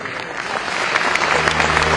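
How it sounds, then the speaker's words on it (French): Audience at a town council New Year's address in Cavalaire applauding, a dense patter of clapping that builds gradually and stays steady, with no voices over it. "je vais vous demander d'applaudir les élus du conseil municipal de Cavalère qui vont nous rejoindre sur scène"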